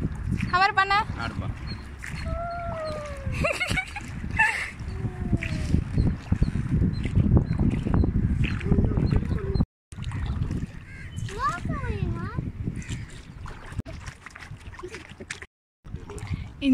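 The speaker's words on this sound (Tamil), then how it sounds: "இந்த இடத்துல போட் வந்து நல்லாவே ஷேக் ஆகுதுங்க." A boat moving across the water at Muttukadu boat house, with a steady rush and splashing of water against the hull, heard close under excited chatter and birdlike whistles from people aboard.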